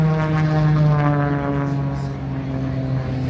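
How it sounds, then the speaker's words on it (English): A small propeller airplane makes a low pass near the ground at the 2021 MCAS Cherry Point air show, giving off a loud, steady droning engine tone that fades slightly as it goes by. "This little mosquito plane or whatever it is out here flying around, he's right on the ground."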